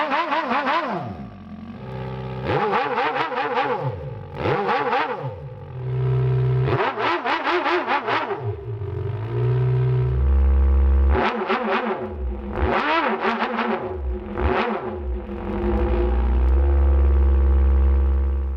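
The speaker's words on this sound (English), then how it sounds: "changing the length of the exhaust system deepens the sound in a noticeable way" Simulated multicylinder engine exhaust from Engine Simulator software, its tone deepened by a longer exhaust system. It plays alone as a loud, continuous synthetic drone that revs up and down in repeated sweeps.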